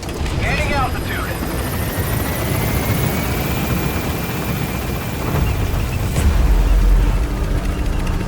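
A helicopter in the game Metal Gear Solid V lifts off and climbs after an extraction, its dense rotor roar constant and loud and swelling near the end, while a radio voice talks over it.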